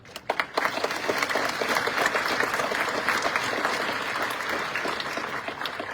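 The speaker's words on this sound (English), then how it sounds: "Please join me in another round of applause" A large crowd at a high school graduation ceremony breaks into sustained, loud applause, dense clapping that starts abruptly and continues steadily throughout.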